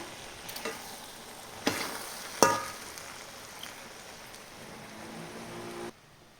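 Mushroom fried rice stirred and tossed in a pan with coriander, soft scraping and light sizzling with a few sharp clinks of the spatula against the pan, fairly quiet and close, no talking.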